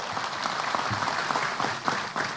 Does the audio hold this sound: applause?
yes